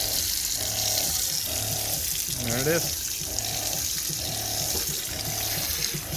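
Water runs from the faucet of an 18-gallon overland water tank, a steady close splashing stream that stays constant, with a brief spoken remark over it.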